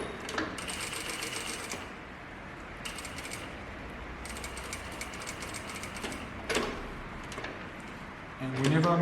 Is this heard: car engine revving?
no